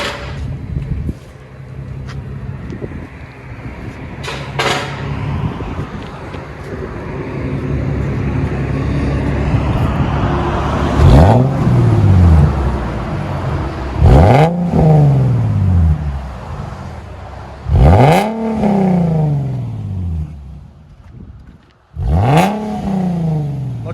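Infiniti G37 3.7L V6 with muffler delete and straight pipes, idling then revved hard several times in a row, each loud rev rising and falling back, close and alone.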